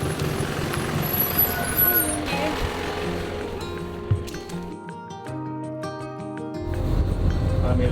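A shuttle bus at Cradle Mountain rumbles loudly up close with a steady engine drone, a sharp air-brake hiss and a series of beeps, and the engine swells again near the end.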